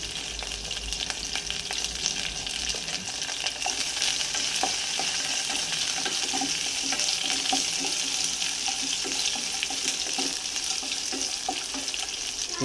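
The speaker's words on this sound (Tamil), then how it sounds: "இந்த ஸ்டேஜில் கருவேப்பிலை போட்டுருவோம்" Garlic and curry leaves fry in hot oil for dhal, a loud, continuous close sizzle with scattered crackles and pops that never lets up, with no voices.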